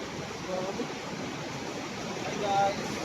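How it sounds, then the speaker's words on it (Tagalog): Strong rushing river water near Wawa Dam in Montalban, Rizal, a steady broadband roar heard from close by, with a few faint tonal sounds over it. "Agos ng tubig, ang lakas oh."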